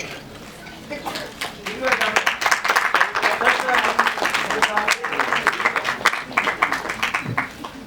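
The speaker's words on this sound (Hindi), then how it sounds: "तालियां बज रही हैं" A crowd at a film trailer launch event applauds steadily, the clapping swelling and thinning over several seconds while voices talk and call out over it.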